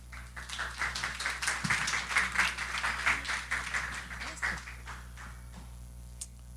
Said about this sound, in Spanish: Recibamos con un aplauso al apóstol Luis Aquino